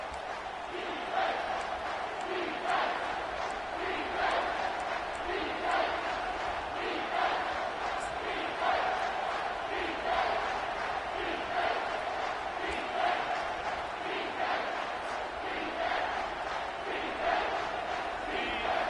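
Home crowd noise in the college football video game CFB-25, a steady roar of fans with rhythmic chanting pulses running throughout, moderately loud and continuous during a third-down defensive stand.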